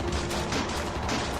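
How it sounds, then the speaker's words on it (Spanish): Dense gunfire in a zombie audio drama: rapid, overlapping loud shots in a continuous burst, a fusillade filling the whole moment with no voices. "Los disparos aún podían ser escuchados por sus oídos."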